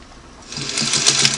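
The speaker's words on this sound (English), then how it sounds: "I'm just going to sew because I want to test my tension" A Singer Model 301 sewing machine starts up and stitches, its motor whirring in from quiet and settling into a fast, even mechanical chatter, close and loud with no voices.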